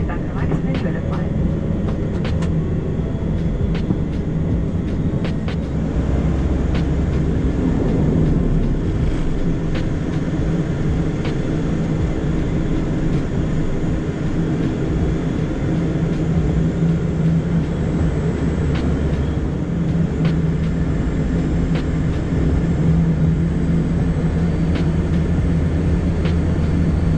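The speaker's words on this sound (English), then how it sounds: "the engines started up again" An Air North airliner's engines, restarted, drone steadily and loudly throughout, a constant low roar with a few faint clicks mixed in.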